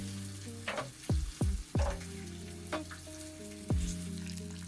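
Tilapia frying in a pan, a soft sizzle under a low steady hum, with several short swooping tonal knocks, fairly quiet and without speech.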